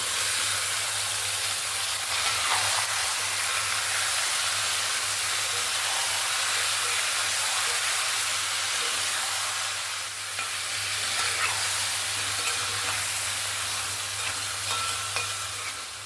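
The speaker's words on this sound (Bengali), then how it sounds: "এবার আমি এখানে দিয়ে দেবো মাখিয়ে রাখা চিকেন।" Marinated chicken hitting hot oil with fried onion and green chilli, giving a loud, steady sizzle and hiss that runs continuously with stirring and no talk.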